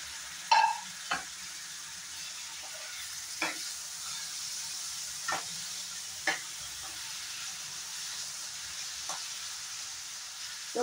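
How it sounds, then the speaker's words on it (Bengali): Tomato fries with spices in a pan, giving a soft, continuous sizzle and hiss close by, with a spatula scraping and tapping every second or two and no voices. "টমেটোটা মশলার সাথে ভালো করে ফ্রাই করে নেব।"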